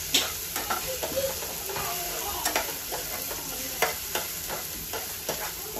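Ginger-garlic paste and onion sauté in a pan for a dry vegetable curry, giving a steady sizzle with a spatula scraping and clicking on the pan every second or so, close by, with no voices.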